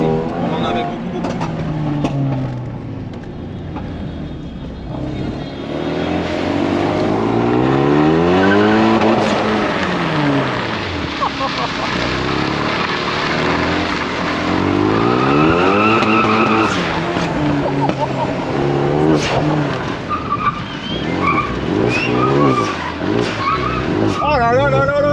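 A car drifting and skidding at Destruction Fest, loud screeching tires in long sweeping wails over a revving engine, rising and falling as it slides, with excited commentary talking over it.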